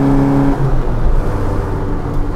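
Engine of a 1967 Austin Mini Cooper S running steadily while driving, a loud continuous low drone with a brief pitch shift early on and no speech over it.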